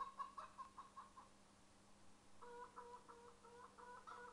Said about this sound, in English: Man, there's a lot of effing chickens.